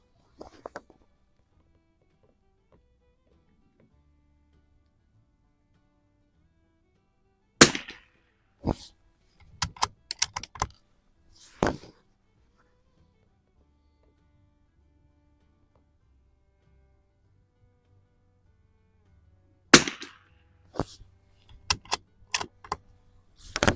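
A Remington 541-T rifle fitted with a Weaver T-10 scope fires at an outdoor range, sharp isolated reports in two clusters separated by long quiet gaps, each shot followed by brief clatter.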